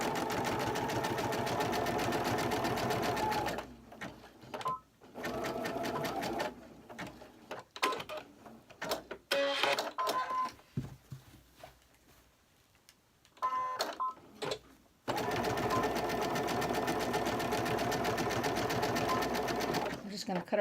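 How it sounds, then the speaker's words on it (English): A sewing machine stitches a zigzag seam in steady, loud bursts that pause between runs, with someone speaking quietly during the gaps. "Go ahead and do a zigzag stitch if you'd like."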